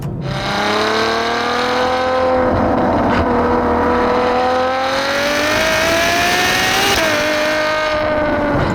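A Ferrari FF sports car engine revs loudly and steadily, its pitch climbing gradually, dipping briefly, then holding high near the end.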